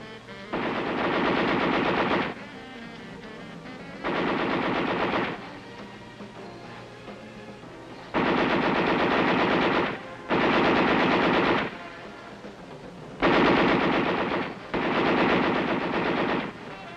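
A .50 caliber heavy machine gun fires in six long sustained bursts, each about two seconds, separated by short pauses with low rumble between.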